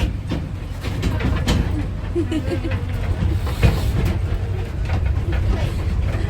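A tourist train rolls along with a steady rumbling drone and occasional rattles and clatters, heard from on board.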